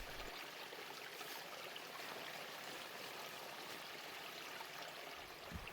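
A small mountain stream flows with a soft, continuous watery rush, faint and steady throughout with nothing else heard.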